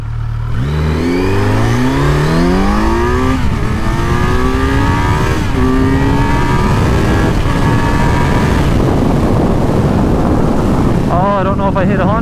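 A 2018 Kawasaki Z900 motorcycle accelerates hard from a standstill toward 100 mph, its engine note climbing steeply through several gear changes with brief dips between them, loud and close, with heavy wind rush over the microphone the whole way.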